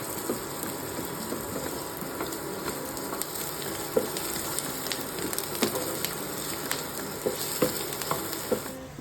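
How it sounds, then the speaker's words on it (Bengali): Onion, green chili and cashews frying in hot white oil in a wok, a steady dense sizzle with small crackles and pops throughout, close and continuous with no talking. "কড়াই সাদা তেল গরম করে পেঁয়াজ কুচি, কাঁচা লঙ্কা আর কাজু বাদাম ভেজে নেব।"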